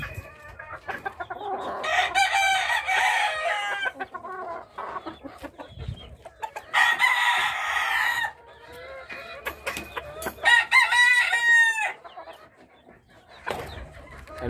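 Young gamefowl cockerels being readied for a fighting event crow and cluck in overlapping bursts, loud and close, with several crows rising above a busy yard of clucking and rustling.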